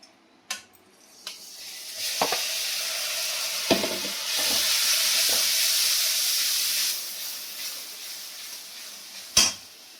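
Onion paste fries in hot oil with bay leaf, a soft steady sizzle and hiss swelling in the middle, with a few clanks and scrapes of a spoon on the pot near the start and end.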